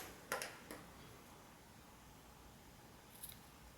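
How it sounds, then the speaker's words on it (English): Scissors snip a yarn tail on a crocheted doily: two or three faint, quick cuts near the start and another small snip toward the end, with quiet room tone in between. "Cut your yarn tail."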